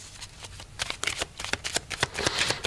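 Smith-Waite tarot cards are shuffled up close in quick bursts of crisp riffling and flicking slaps, uneven in rhythm, with no talking.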